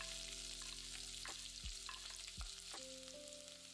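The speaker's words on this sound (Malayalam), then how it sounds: "അതിലേക്ക് 1 ടേബിൾ സ്പൂൺ എണ്ണ ഒഴിച്ച് 1/2 ടീസ്പൂൺ കടുകിട്ട് പൊട്ടിക്കുക" Half a teaspoon of mustard seeds splutters in a tablespoon of hot oil in a pan for raw plantain thoran, giving a faint sizzle with a few scattered pops over a steady background hum.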